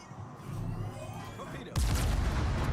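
Warship guns firing armor-piercing shells in a naval battle video game, a loud sudden boom that rolls into sustained rumble after a steady hum of engine noise.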